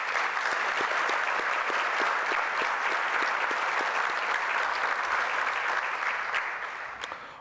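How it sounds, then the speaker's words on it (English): Sustained audience applause at an anniversary gala luncheon, a steady dense clapping from a large crowd that fades slightly at the end, with no talk over it. "Please give them a round of applause."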